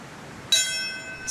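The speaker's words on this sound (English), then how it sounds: "6 bells, 6 moments of silence to mark the shockwaves that morning" A single bright bell strike for a 9/11 anniversary memorial in New York, ringing with a sustained ringing tail, then a second strike beginning at the end; clear and moderately loud over quiet background.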